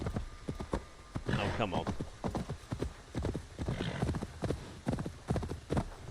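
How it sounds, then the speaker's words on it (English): A horse's hooves clip-clop at a steady walking rhythm in the Assassin's Creed video game. The beats stay close and even throughout, and someone talks briefly over them. "no personal attachment to my horse due to the fact that he's just called Mount"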